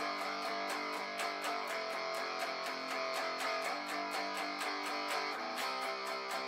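Electric guitar strumming the verse chords of a song in steady driving eighth-note strums, eight to a measure, with bright pick attacks and no voices, played fairly quietly.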